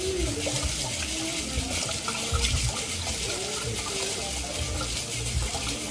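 Water runs steadily from a tap while kiwa grains are rinsed in a strainer, a constant close splashing and trickling rush throughout, with faint clinks underneath.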